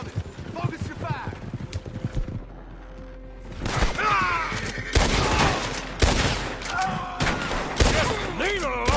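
Red Dead Redemption 2 gameplay gunfire crackles in rapid bursts amid hoofbeats and horse sounds, loud and busy, with shouted game voices between the shots.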